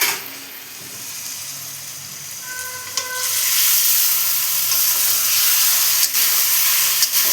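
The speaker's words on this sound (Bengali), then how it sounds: "এবার আমি চিকেনটাকে কষাতে থাকবো।" Chicken being sautéed in a pan over a medium flame for chicken pulao: a quiet start, then a loud, steady sizzle with stirring that rises around the third second and keeps hissing to the end.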